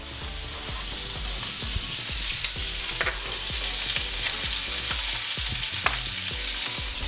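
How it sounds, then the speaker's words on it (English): Chicken pieces stir frying in red curry paste in a hot pan, a close, steady sizzle broken by repeated scrapes and clicks of stirring, with no voices. "in goes the chicken."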